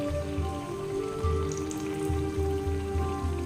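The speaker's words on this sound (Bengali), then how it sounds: "এই যে দেখুন উল্টিয়ে দিয়েছি, এইভাবে করে ভাজবো।" Thin palm-fruit malpua batter frying in a pan over medium heat, giving a steady soft crackling sizzle with no voices.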